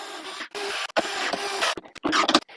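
Bolts are run down by hand into an Acerbis fuel tank fitted on a Honda CRF300L, producing short bursts of scratchy ratcheting and scraping with brief pauses between them.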